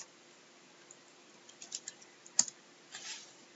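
A computer keyboard clicks as a short command is typed, a sparse scatter of light taps followed by a quick cluster and a final keystroke, quiet and close over faint background hiss.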